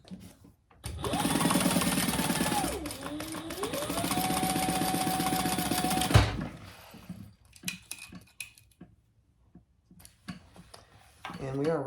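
A sewing machine runs a seam and then top stitching on a bag, a loud rapid mechanical whir lasting about five seconds, followed by quieter clicks and handling sounds.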